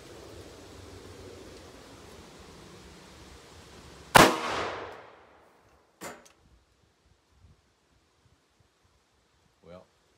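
A single sharp, loud crack of an 8.6 Blackout rifle firing a Barnes 185-grain all-copper TTSX bullet at a clear ballistic gel block, ringing out briefly over a quiet outdoor hiss, followed by a few faint knocks.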